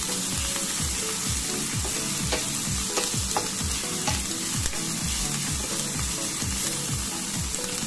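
Kimchi frying in a pan for kimchi fried rice: a loud, dense sizzle with a fast, regular scraping rhythm of a spatula tossing it, close and continuous with no voices.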